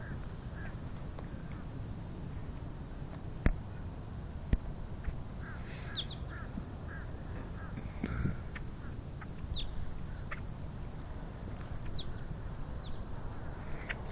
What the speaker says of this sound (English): It's kind of fun watching the birds.